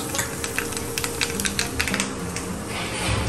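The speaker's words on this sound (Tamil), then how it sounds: "எண்ணெய் காஞ்சிருது. கொஞ்சம் கடுகு உளுத்தம்பருப்பு" Mustard seeds and urad dal splutter in hot oil in a home kitchen, with a continuous crackling sizzle dotted with quick sharp pops at moderate loudness, close by.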